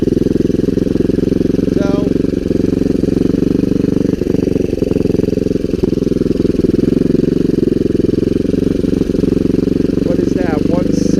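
A Kawasaki Bayou 300 ATV engine, rebuilt with a new recoil starter, runs steadily and loudly up close with a rough, throbbing idle throughout, while someone talks briefly over it.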